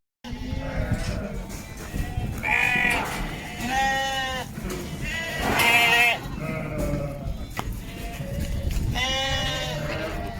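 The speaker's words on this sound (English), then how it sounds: "We've just brought in the ewes and lambs, split out the lambs and have a sort out" Ewes and lambs bleating on a farm, several overlapping calls of varying pitch repeating close by over constant background noise, some loud and drawn out, others shorter and higher.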